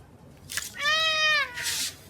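A pet cat gives a single clear, drawn-out meow lasting most of a second, close and alone in a quiet room, with a short breathy sound just before it and another just after.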